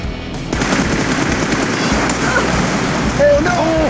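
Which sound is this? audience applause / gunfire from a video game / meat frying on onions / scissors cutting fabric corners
gunfire from a video game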